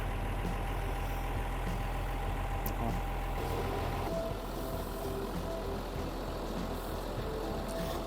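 A John Deere 6155M tractor idles during field preparation for soybean planting, giving a steady, even low drone that runs without a break and with no one speaking.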